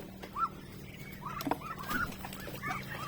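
Pet domestic ducks, a flock that has stopped laying eggs with ducklings among them, give short nasal calls and quacks at close range over a steady low background hum.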